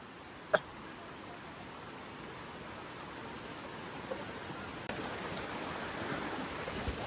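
Fast-flowing stream water rushing strongly, a steady broad wash of noise close by with a single sharp knock near the start and no voices.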